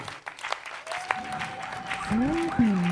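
Audience applause at a gospel talent show, a steady patter of clapping that swells toward the end, with a sustained musical tone and a voice rising over it.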